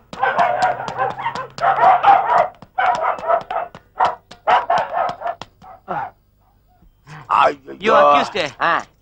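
Dogs bark and yelp amid voices in a Tamil movie comedy scene, with Alsatians, Pomeranians, German Shepherds and Dalmatians chasing people: loud, overlapping barks and yips mixed with frantic shouting throughout.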